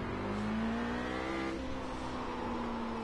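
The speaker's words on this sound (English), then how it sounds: "Want to be careful not over revving the engine on those downshifts." A race car engine in the iRacing simulator revs and drops in pitch on downshifts, a loud continuous engine drone with a short burst of higher revs, no voices.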